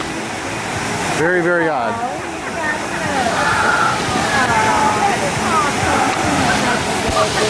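Water pours and sloshes steadily down a Six Flags St. Louis ride channel, a constant broadband rush that fills the whole stretch, with someone talking briefly over it near the start.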